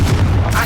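A Confringo blasting spell in Hogwarts Legacy bursts as a short, loud, booming explosion with a rumbling low end.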